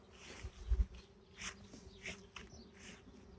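Honey bees buzz faintly around an open hive during an inspection, a thin steady hum with a few louder passes as individual bees fly close, plus a brief low bump of handling early on.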